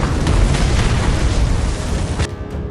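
A loud, sustained bomb explosion with a deep booming rumble that fills the space for a couple of seconds before cutting off.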